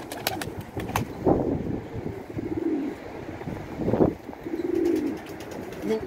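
Tumbler pigeons coo in low, throaty rolls, two or three close calls against steady wind buffeting the microphone.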